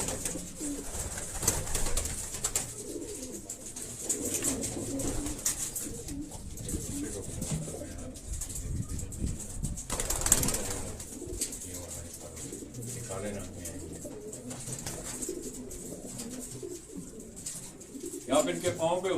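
Racing pigeons in a loft give off soft, steady cooing throughout, with rustling and movement around them and a voice talking over the birds.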